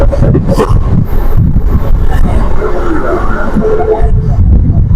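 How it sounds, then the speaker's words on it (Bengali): Sealdah MEMU Express train rushing at speed through Kali railway station, a loud continuous low rumble and rattle filling the scene with steady clatter. "কালী রেলওয়ে স্টেশন 2 নম্বর থেকে যাচ্ছে, বেশ স্পিডে যাচ্ছে ট্রেন।"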